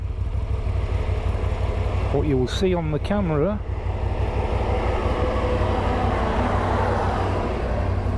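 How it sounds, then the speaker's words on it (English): A big tractor approaches and passes close by, a continuous low engine rumble under a brief burst of talk partway through, the noise holding fairly steady the whole time. "there's a big tractor coming up towards me"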